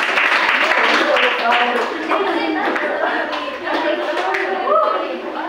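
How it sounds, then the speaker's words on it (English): Audience applause at a school demo presentation, clapping mixed with cheers and voices of people talking and calling out, loud and close throughout. "give them a round of applause"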